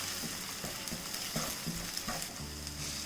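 Sugar and cardamom powder are stirred into a mixture in a pan, a soft continuous scraping and sizzle-like swishing with light irregular clicks of the utensil, fairly quiet and steady with no talking.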